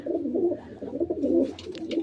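Pigeons coo in soft, repeated rolling calls at close range inside a loft, a continuous low burbling with faint light rustles toward the end.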